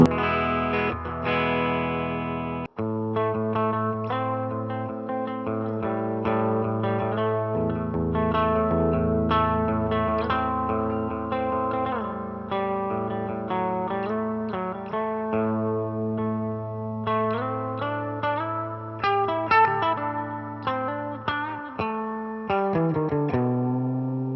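An electric guitar plays through a Line 6 Flextone II amp on its Jazz Clean setting, with sustained chords and single notes ringing clearly in a shimmering, chorus-like tone, alone and up close.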